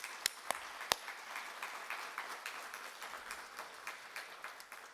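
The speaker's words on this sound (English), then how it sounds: "Let's give everyone a round of applause." Applause from a seated audience at a tribute event celebrating a musician and his music, a faint, steady patter of clapping with a few sharper, louder claps near the start, no voices.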